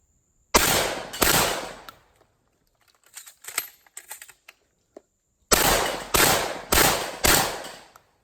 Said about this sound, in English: that Benelli shoots a lot softer than that Stoker as well